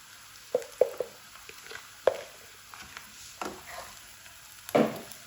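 Ginger garlic paste fries in oil with a faint, steady sizzle, broken by several sharp clinks and scrapes of a utensil stirring the pan.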